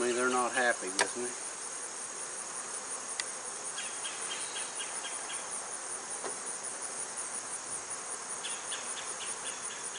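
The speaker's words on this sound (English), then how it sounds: "I got bees flying all around me" Honeybees swarm around a troubled beehive, a faint, steady high buzzing that carries through the whole stretch with occasional louder fly-bys close to the microphone and a short voice near the start.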